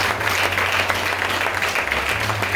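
A church congregation applauds during a sermon, a loud, dense burst of clapping with murmured crowd voices mixed in.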